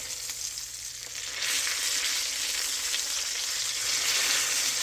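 Cubed steak, chicken-fried Southern style, sizzles steadily in a pan, a continuous bright hiss that swells louder after the first second and holds, with no talking.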